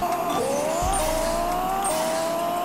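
A loud, sustained tire squeal with a whining engine tone rising and stepping in pitch, constant and close, from a car burnout in the video game Pixel Car Racer.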